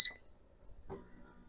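Gintell foot massage machine gives one short, clear electronic beep as its massage mode changes, followed by a faint soft click in an otherwise quiet room.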